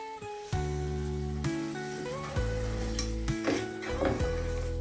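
Boiled mutton for mutton sukka is stirred in a hot pan, a steady loud sizzle with repeated scraping and clanking of the spoon against the pan, close up and without speech.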